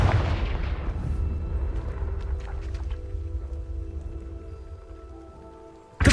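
A Confringo fire spell is cast in the game Hogwarts Legacy, giving a loud explosive burst that fades into a long rumbling tail, with a sharp new blast at the very end.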